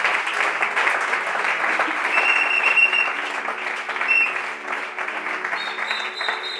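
A church congregation applauds and cheers for the Lord during a sermon, producing sustained clapping of many hands with scattered shouts mixed in, loud and continuous from start to finish.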